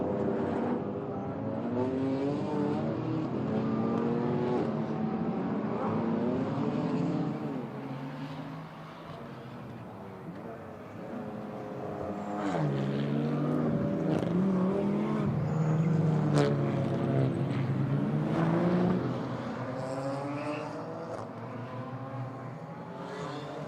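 DTM Trophy race cars at the Nürburgring, engines revving and shifting through gears as they accelerate and pass close by, rising and falling in pitch over a sustained racing roar.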